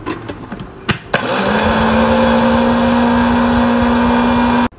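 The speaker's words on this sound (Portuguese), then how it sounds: "E aí a gente vai bater essa moçada aqui no liquidificador." A few clicks and knocks, then a blender mixing bread dough whirs on loudly and runs at a steady, high-pitched drone before cutting off abruptly.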